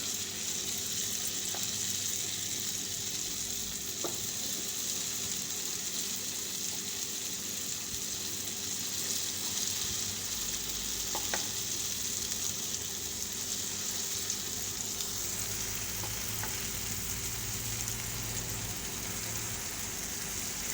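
Dahi vada lentil fritters frying in hot oil over a low flame: a faint, steady sizzle with occasional soft pops and clicks, continuous for about twenty seconds with no talking.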